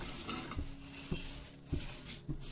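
Poha chiwda stirred in a pan over high gas, with a spoon scraping and knocking against the metal in a few distinct clinks above a soft, steady sizzle, close and moderately quiet.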